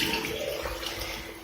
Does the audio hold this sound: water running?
yes